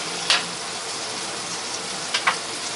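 Asparagus sizzling in a pan with a little water and plenty of butter, a steady broad hiss with a couple of brief sharper spits, fairly close.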